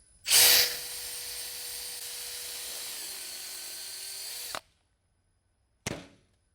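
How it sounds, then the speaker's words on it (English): A power drill whines steadily for about four seconds at close range, drilling holes through an e-bike frame to mount a side kickstand, its pitch dipping slightly under load, then stops; a brief second burst follows. "now the scary part, you're going to drill those 2 holes."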